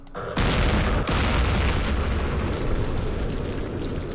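Mortar fire in the wargame Campaign Series Middle East, with a loud boom after a brief quiet followed by sustained heavy rumbling blasts, a second sharp hit about a second later, and continuous dense explosive roar throughout.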